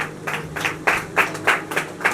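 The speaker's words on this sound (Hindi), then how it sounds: "हमारे बीच में हमारी बुजुर्ग अम्मा, उनके लिए ताली बजाएंगे जोर से" An audience claps in rhythmic unison for elderly ladies at a gathering, about eight sharp, evenly spaced bursts of clapping, fairly close and clear with little else beneath.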